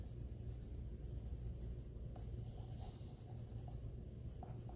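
Colored pencil scratching across a card as it is shaded, a steady close rubbing stroke sound continuing throughout with no talking.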